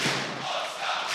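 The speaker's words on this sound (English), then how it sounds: "And the crowd loving it." Esports crowd at IEM Katowice 2024 cheering during a Counter-Strike quarterfinal, a broad distant roar of many voices with a brief thump near the start, fairly faint.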